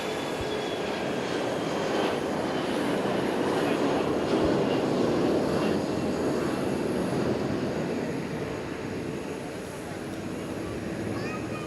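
An aircraft engine at Fukuoka International Airport gives off a steady, fairly distant roar that holds through the whole stretch, swelling slightly and then easing. Occasional faint voices mix in.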